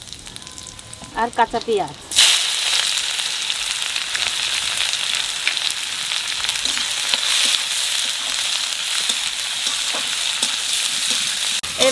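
Cumin, bay leaves and whole garam masala, then raw onion, hit hot oil in a home kitchen, bursting into a loud, steady sizzle that continues throughout after a short spoken phrase at the start.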